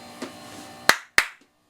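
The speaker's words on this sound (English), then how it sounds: "Two claps, we go in." Two sharp hand claps, about a quarter second apart, ring out close and loud to trigger a clap-activated IR XY linear actuator driver, following a faint low hum and a soft tap, then silence.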